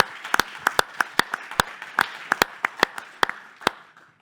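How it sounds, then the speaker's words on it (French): A small audience claps at a public talk in Vichy, with sparse, distinct handclaps repeating irregularly for a few seconds and fading out. "Applaudissements pour Damien Clerc, s'il vous plaît."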